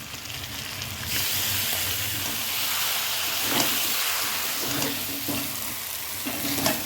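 Spices with turmeric, chili, ginger-garlic, cumin and coriander powders sauté with fried potatoes in a pan for a fish curry, a loud continuous sizzle and hiss with occasional stirring scrapes, no voices.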